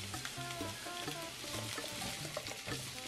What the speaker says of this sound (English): While our potatoes are cooking up,